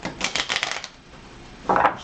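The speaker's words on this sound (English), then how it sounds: "we give these a good shuffle" A deck of Zephyr: Winds of Change crew cards being shuffled by hand, a quick riffle of soft papery flutters followed by a pause and a shorter, brighter burst of card riffling near the end.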